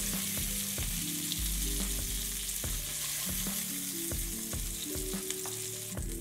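Meatballs sizzle steadily in a pan on the stove, a constant crackling hiss with regular utensil clinks and scrapes as they are turned, close and clear with no voices.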